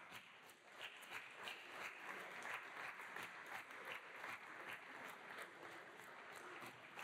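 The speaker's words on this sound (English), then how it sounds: "so we can applaud you right now" A church congregation applauds its volunteers during a Sunday service, with sustained, fairly soft clapping from many hands, slightly distant and roomy, holding steady for several seconds.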